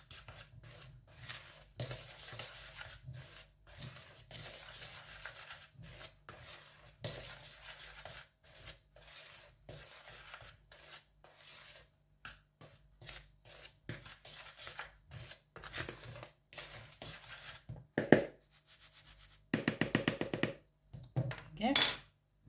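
Muffin crumble topping is mixed in a bowl with quiet, intermittent scraping and rubbing strokes, which grow louder and denser toward the end.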